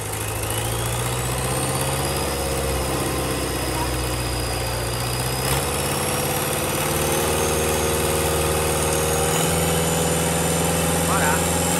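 A Toyota 14B marine diesel engine runs close up at a steady idle, giving a loud, continuous throbbing drone with an even tone throughout.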